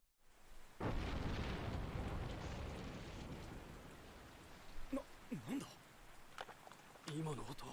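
A loud, rumbling explosion-like roar from an Attack on Titan episode with a long sustained wash of noise, followed by short voiced sounds and a brief louder burst near the end.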